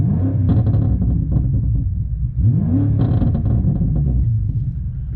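A 4.4-litre twin-turbo V8 in a 2018 BMW M5 revs hard from inside the car, rising and falling twice in deep, throaty surges over a steady rumble.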